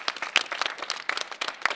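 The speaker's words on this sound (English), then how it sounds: "Let's give yourselves a round of applause." Youth scholars in an audience applaud themselves, a short burst of lively, uneven hand claps, close and fairly loud.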